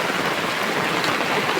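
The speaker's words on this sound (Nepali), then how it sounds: "कति मजाले परेछ पानी हेर्नु न साथीहरू" Heavy rain pours steadily over a house in Tanahun district, Nepal, with runoff water rushing past in a dense, continuous hiss, close and loud throughout, with no voices.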